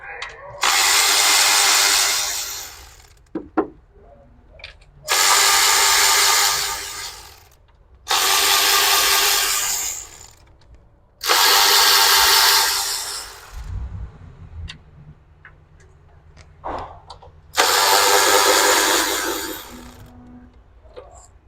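An impact tool spins out 10 mm bolts from the valve cover of a 2010 Kia Soul in five loud bursts of a few seconds each, close up, with quiet clicks and handling noises between them.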